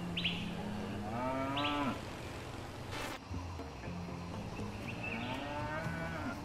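A cow in a video game moos repeatedly, with drawn-out, fairly loud calls that rise and fall, set against a steady ambient background with faint chirps and no talking.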